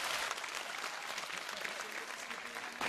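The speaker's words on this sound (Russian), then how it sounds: "Ваши аплодисменты!" Audience applause at a talent show during a magician's act, a continuous, even roar of many hands clapping from a large crowd, fairly distant and steady throughout the short stretch.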